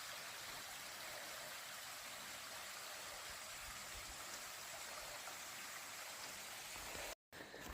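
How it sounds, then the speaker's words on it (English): A steady broadband rush of a brook flowing below an Appalachian Trail path, continuous and even, with a brief dropout near the end. "it's nice to hear the brook down there"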